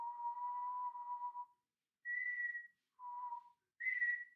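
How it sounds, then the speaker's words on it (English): A person whistles a few clear sustained notes, alternating between a lower and a higher pitch with short pauses between them. "I'll just whistle to you."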